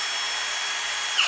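Milwaukee SDS Plus hammer drill running at steady speed into concrete, a continuous close, loud hissing whine with no pauses and a brief spike near the end.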